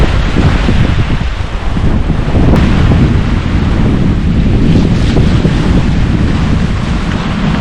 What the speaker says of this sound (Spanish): Está queriendo soplar un poco más